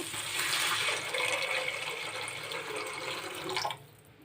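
Water pours steadily into a cooking pan for masala noodles, a continuous close rushing splash that holds for several seconds before stopping abruptly.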